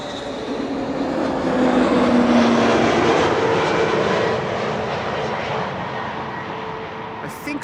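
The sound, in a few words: airplane at Amsterdam Schiphol Airport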